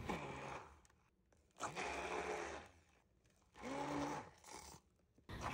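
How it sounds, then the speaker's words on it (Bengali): Hand blender whirring through red chillies, garlic and salt in three loud bursts, each running about a second or more, with short quiet pauses between them and no voices. "মোটামুটি ভালো করে মরিচ এবং রসুন ব্লেন্ড হয়ে গেলে সেদ্ধ করে রাখা শুটকিটাও এর মধ্যে দিয়ে আবারও ভালো করে ব্লেন্ড করে নিতে হবে।"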